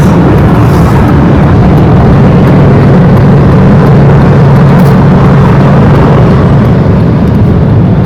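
A 30-year-old, well-maintained vehicle drives with its engine running, producing a steady, loud low rumble and broad road noise that hold unbroken throughout, with no talking.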